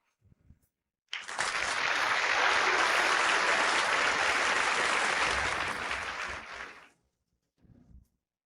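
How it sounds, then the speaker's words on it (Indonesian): Sustained applause from an audience welcoming an investment company president rises sharply after a short pause, holds full and even for about six seconds, then fades out, with brief murmurs of a voice before and after. "mari kita sambut dengan tepuk tangan Presiden Investasi Nifeng"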